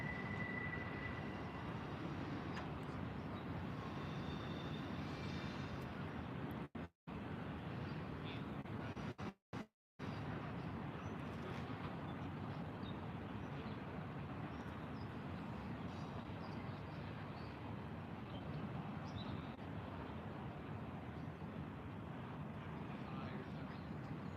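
A long, slow intermodal freight train rolling around Horseshoe Curve, a continuous low rumble and grinding heard at a distance, steady throughout apart from two brief dropouts.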